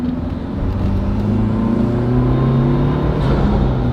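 A Ford Bronco fitted with a K&N intake accelerates in traffic, a steady loud engine drone with rising harmonic tones and constant rumble that builds slightly through the run.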